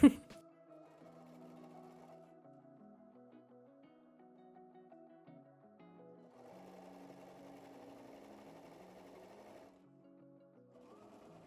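A sewing machine stitches fabric for a ruffle shirt, a steady mechanical hum running continuously with slight changes in speed and a brief sharp start.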